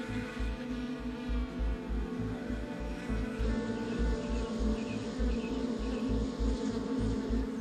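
Honeybee workers buzzing around their hive in a field, a dense, continuous hum with several insects droning close by, steady throughout and no voices.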